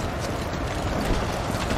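Horse hooves clip-clopping in the video game Tiger Knight, a quick continuous patter of hoofbeats with game noise and no talk.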